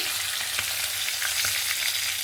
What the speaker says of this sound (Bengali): মাছটা এখানে 2 সাইড ভালো করে ভাজা হয়ে গেছে